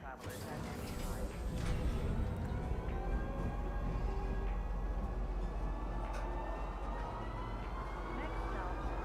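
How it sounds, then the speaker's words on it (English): The Lorville train in the space game Star Citizen running steadily, a continuous rumbling rail roar with mechanical whine and rattle filling the whole stretch, a voice talking faintly in places. "I wonder if the Lorville train is gonna get an upgrade."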